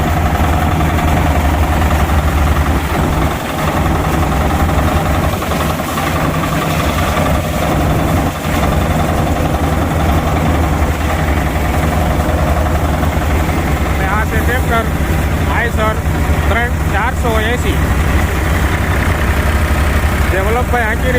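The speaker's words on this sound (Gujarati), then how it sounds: "ટ્રેક્ટર પણ લોટમાં હાલે છે કારણ કે આ મગફળી પૂરી સુકાણેલી નથી" A tractor-driven peanut thresher runs slowly on not fully dried peanuts, its heavy engine droning steadily with a loud, rumbling mechanical clatter throughout, close by, with faint voices underneath.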